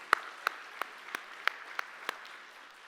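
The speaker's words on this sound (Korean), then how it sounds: "하나님께 영광의 박수." A church congregation claps during a Sunday service, the sharp claps falling in a slow, even rhythm of single beats with no voices over them.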